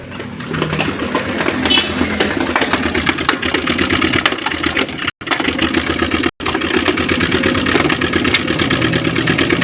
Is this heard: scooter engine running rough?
yes